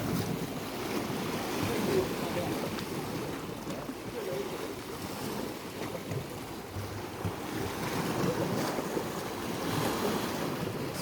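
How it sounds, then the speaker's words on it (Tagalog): Continuous surf and wave wash with wind buffeting the microphone, a steady broadband roar rising and falling slightly over the whole stretch. "Lakas kasi ng alon eh."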